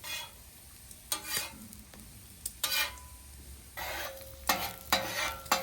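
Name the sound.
jalapenos sizzling in bacon grease on a griddle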